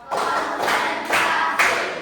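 Group clapping chant in a classroom, four bursts of massed hand claps in a steady counted rhythm, each burst loud and close with no talk over it.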